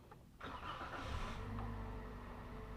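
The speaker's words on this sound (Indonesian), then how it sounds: "Nah, kita hidupin dulu mesinnya." A Toyota Avanza type E engine cranks and catches around half a second in, then settles into a steady, close idle that runs alone with no talk.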